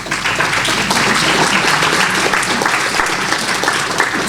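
An audience at a conference gives a sustained burst of dense, loud applause. The clapping stays even across the whole moment, with no voice over it.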